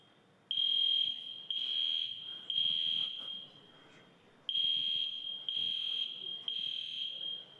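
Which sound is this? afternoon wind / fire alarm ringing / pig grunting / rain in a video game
fire alarm ringing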